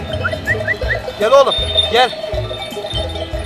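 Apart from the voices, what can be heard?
flock of sheep bleating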